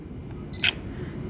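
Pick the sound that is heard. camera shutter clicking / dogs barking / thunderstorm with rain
camera shutter clicking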